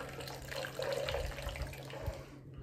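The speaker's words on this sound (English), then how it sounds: "So we're just gonna add a bunch of water in here." Water pours into a container of meal replacement drink powder, a steady close splashing stream running throughout before cutting off near the end.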